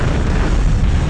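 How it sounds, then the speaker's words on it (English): A nuclear blast's shockwave in the Battletanx Global Assault video game: a loud, sustained low rumbling roar that fills the whole moment without letup. "There we go, shockwave from the nuke."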